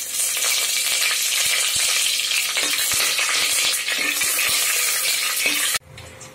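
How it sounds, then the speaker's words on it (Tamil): Bay leaves, cinnamon and cloves frying in oil for chicken biryani, a loud close sizzle with scattered stirring clicks that cuts off abruptly near the end. "பிரியாணி இலை, பட்டை, கிராம்பு இதெல்லாம் போட்டுக்கலாம்."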